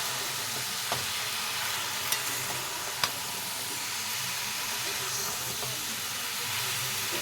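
Chicken skin and cabbage fry in a pan over an open flame, a steady close sizzle with a few sharp scrapes and knocks as the mix is stirred.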